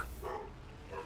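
Dogs bark in the background during a livestream chat, a steady low layer of yapping behind room noise with no clear speech.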